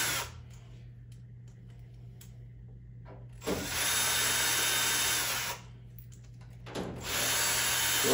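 A power drill removes screws from a panel on a 2022 Harvest Right freeze dryer. Two loud, high whirring runs of about two seconds each are separated by quiet gaps with small mechanical clicks.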